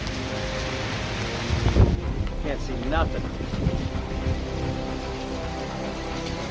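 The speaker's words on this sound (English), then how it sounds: "We got sideways rain." Heavy monsoon rain pours with a nonstop roar, with a low rumble of thunder swelling early on. A person speaks briefly over the storm.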